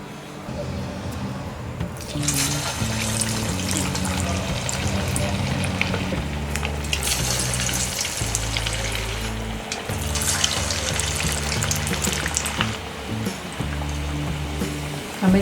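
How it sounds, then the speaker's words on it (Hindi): Rice flour and onion cutlets (tikki) frying in a pan over low to medium flame, a steady broadband sizzle and bubbling hiss running throughout with some louder crackling bursts and background tonal sounds. "हमने सारे टिक्कीज बना लिए हैं। अब हम इसे फ्राई करेंगे।"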